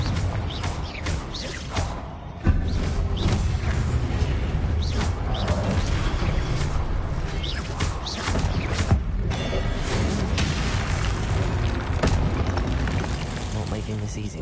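Confringo blasting spell in a Harry Potter video game, set among statues: a sudden boom of blast energy followed by a long, dense roar of rumbling debris and whooshing that fills the whole stretch loudly.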